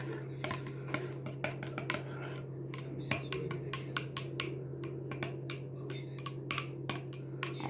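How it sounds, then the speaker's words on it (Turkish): A spoon stirring milk coffee in a cup, quick bright metallic clinks against the rim in an irregular rapid rhythm, close, over a low steady hum, with no talking. "Şimdi karıştırıyoruz."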